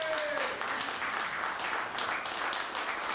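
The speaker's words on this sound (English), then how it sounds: "Keep the applause coming." Audience at a luncheon applauding as Jerry Sharrel is introduced, steady even clapping from a sizable crowd at moderate distance, with faint voices underneath.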